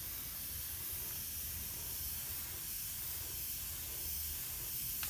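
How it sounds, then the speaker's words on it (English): Iwata Eclipse airbrush hissing steadily at low level as its air pressure is turned down, a soft, even rush with no talk over it. "So I'm gonna turn my pressure down, listen to it as I'm turning it down."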